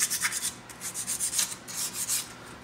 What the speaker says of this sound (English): So first thing I do is sand this outside edge of the tool rest.